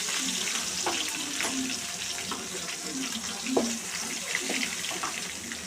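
Curry leaves and turmeric frying in a pan, a busy crackling sizzle with repeated sharp pops and scrapes of stirring throughout, close and steady with no voices.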